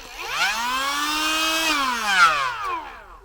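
A ProCraft PGA12 mini cordless angle grinder's motor whines up in pitch, holds a high steady scream, then spins down, loud and close.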